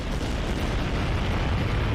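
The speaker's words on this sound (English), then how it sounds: "the sound of a powerful explosion reaches all the way out to where we are, and the ground shakes a little" A powerful bomb explosion in a video game, heard as a dense, sustained rumbling roar with deep low-end weight, steady and loud across the whole moment with no distinct onset, no voices.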